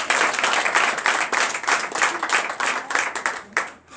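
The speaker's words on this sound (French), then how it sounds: "Donnez l'acclamation de suite." A congregation at a night deliverance and prophecy church service bursts into loud, sustained applause, rapid overlapping claps rising and falling in waves before cutting off abruptly at the end.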